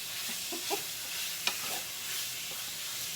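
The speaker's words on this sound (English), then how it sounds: "We're going to fry this up" Chicken frying in a pan for garlic chicken, cooked until crispy: a steady, soft broadband sizzle with a faint scrape and one sharp tick near the middle, no voices.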